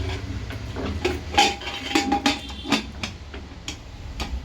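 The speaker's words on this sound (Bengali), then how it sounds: "দেখো আমি ভালো করে প্রেশার কুকারে ঢাকনাটা লাগিয়ে দিয়েছি" A lid is fitted onto a new pressure cooker in a home kitchen: a run of close metallic clinks, taps and scrapes, irregular and fairly soft, with no talking.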